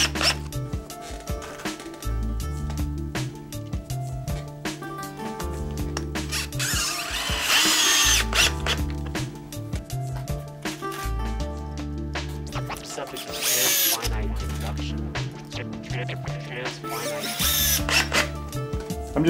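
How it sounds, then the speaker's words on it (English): A 12-volt DeWalt cordless drill drives grip studs into an old used tire, giving repeated bursts of whirring and grinding close by, with short pauses between studs and no talking. "I'm just using my little 12 volt DeWalt, but imagine anyone would work."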